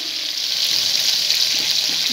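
Continuous bright sizzling of potatoes with salt and turmeric frying in oil, steady and close, with no talking.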